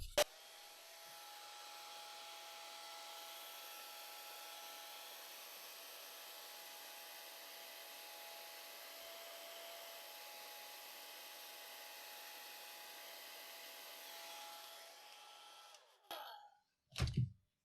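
A hair dryer drying a watercolor painting of a colt blows a steady, faint whooshing hum for about fifteen seconds, then cuts off, followed by a couple of brief handling knocks.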